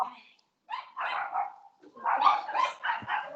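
Several dogs barking in rapid bursts, a short bark, a pause, then a run of loud overlapping barks and yips, close and insistent.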